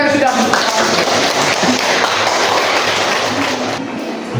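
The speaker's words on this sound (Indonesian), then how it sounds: "tepuk tangan untuk teman-teman kita yang sudah" Classmates in a room applaud after a group presentation, a dense, continuous wash of clapping held steady for several seconds and tapering slightly at the end.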